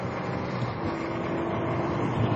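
A 2011 BMW M3 Coupe engine pulls hard in second gear on a race track, a steady, dense mechanical roar that holds at a constant high level throughout with no pauses.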